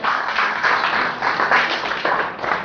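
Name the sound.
church congregation applauding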